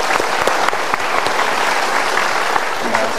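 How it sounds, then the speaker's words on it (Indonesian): Steady, dense audience applause filling a hall during a motivational talk, a continuous crowd of hands clapping close and loud from start to finish with no voices above it. "Kita berikan tepuk tangan untuk mereka."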